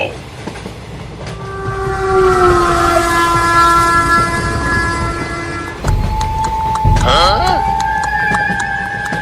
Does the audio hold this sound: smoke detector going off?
no